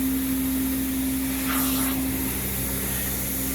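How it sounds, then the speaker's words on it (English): A Prochem carpet steam cleaning machine flushes soil from carpet fibers with a steady, loud whooshing hiss that runs without a break, while a constant hum sits underneath. "So this machine right now, we're flushing the fibers, getting all the soil"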